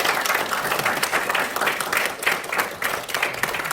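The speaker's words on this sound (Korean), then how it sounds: "우리 환영의 박수 올려드리겠습니다" A church congregation applauds in welcome of a new member, a steady burst of clapping from many hands that fills the room for a few seconds.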